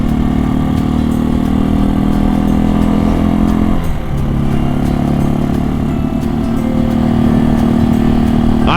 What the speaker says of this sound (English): this bike is louder than my bike, but it's got a nice note to it.